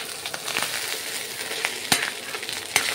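Ghee sizzling in a frying pan on a lowered flame while making fried rice from leftover rice, a steady close hiss with occasional louder pops and stirring clinks, no talking.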